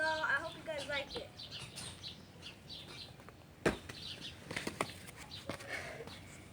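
Small bird flapping its wings, soft fluttering bursts up close amid chirps and background chatter, with a sharp thump midway and scattered rustling.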